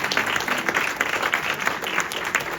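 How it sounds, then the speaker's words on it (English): A crowd at a Rotary Club and Chamber of Commerce evening business mixer gives continuous, close applause, dense rapid clapping that holds steady from start to finish. "A round of applause for them."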